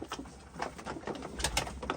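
Pigeons cooing in a coop, soft repeated throaty coos close by over a low rustle, with no talk.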